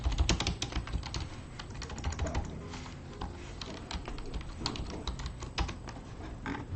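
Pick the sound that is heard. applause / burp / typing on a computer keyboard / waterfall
typing on a computer keyboard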